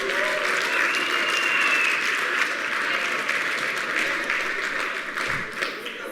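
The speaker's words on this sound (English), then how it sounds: "That's the loudest applause." Loud, sustained audience applause at a Cape Town election debate, a dense wash of clapping that stays strong and only slightly fades toward the end.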